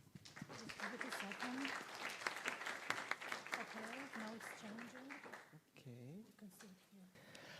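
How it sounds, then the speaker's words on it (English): Audience applause greeting a speaker at a talk on psilocin and a serotonin blocker affecting rat brain responses to sound, with steady clapping running beneath continuous speech throughout. "So please give him a warm round of applause."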